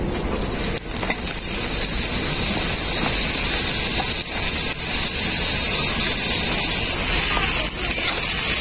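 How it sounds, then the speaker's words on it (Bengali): Sliced mushrooms frying with onions and salt in a pan, a steady close hiss and sizzle running throughout with occasional stirring scrapes, no talking. "মাশরুমগুলোকে আমি খুব ভালো করে পেঁয়াজের সাথে ভেজে নেব"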